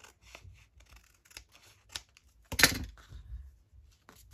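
Scissors trim a paper junk mail envelope: a few light snips lead up to one loud, sharp close cut, then soft paper rustling follows. No one talks.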